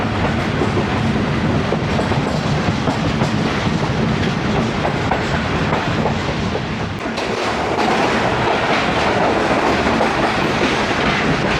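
Old AC sleeper coach of the 8DN Tezgam train between Rawalpindi and Lahore, running on rails near Shahdara Bagh Junction; a steady, loud rolling rumble with continuous clickety-clack of wheels over rail joints, close and unbroken throughout.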